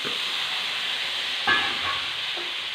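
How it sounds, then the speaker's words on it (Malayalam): Long beans tossed into a hot pan of chili powder set off a steady sizzling hiss, with a brief louder burst of frying and stirring partway through. "ഈ മുളക് പൊടിയൊക്കെ നന്നായിട്ടൊന്ന് ചൂടായിട്ടുണ്ട് ഇതിനകത്തേക്ക് നമുക്കിനി ഈ പയറിട്ട് കൊടുക്കാം"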